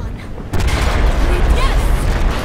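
Heavy explosions in Battlefield 4 gameplay: after a quieter opening, a loud, dense roar of blasts and gunfire fills the rest, with deep rumble throughout.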